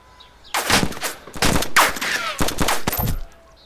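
Gunfire in the survival video game DayZ, a burst of several loud rapid shots over a few seconds, close and punchy with short gaps between groups.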